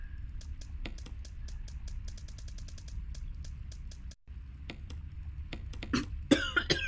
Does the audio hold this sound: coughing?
yes